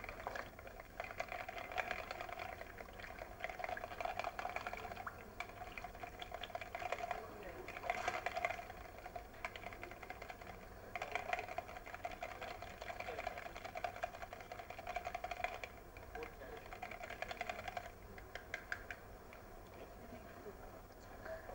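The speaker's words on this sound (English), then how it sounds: "Whisk this up." Egg whites, separated from the yolks, are whisked in a bowl with a steady, fast rhythmic scraping and ticking that runs continuously at moderate, close volume with no one speaking.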